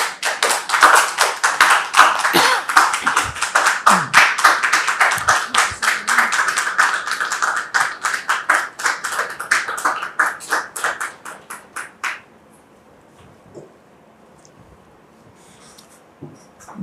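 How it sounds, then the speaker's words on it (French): An audience on a French TV talk show applauds a guest onto the stage, dense, steady clapping for about twelve seconds that stops abruptly, leaving near silence. "Recevons-la maintenant avec vos applaudissements."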